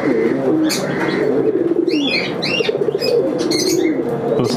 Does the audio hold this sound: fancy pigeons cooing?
yes